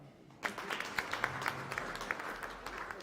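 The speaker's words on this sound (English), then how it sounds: "You clap for her." Applause breaks out from the guests at an alumni dinner, starting abruptly and carrying on as a dense, steady patter of many hands with a few sharper claps standing out.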